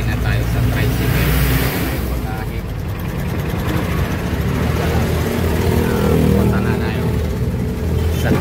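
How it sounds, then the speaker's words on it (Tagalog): A motorized tricycle engine runs steadily throughout at close range, a continuous low rumble with no clear revving, heard in a Philippine setting on the way to a terminal. "nakapag na tayo, sasakay na tayo sa tricycle"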